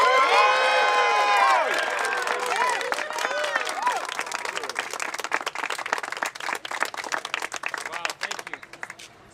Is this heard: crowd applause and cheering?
yes